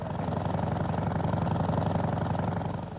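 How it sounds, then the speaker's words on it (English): An early Blériot airplane's piston engine rumbles steadily with a pulsing, throbbing beat, close and fairly loud, with no voices. "We heard the engine rumble"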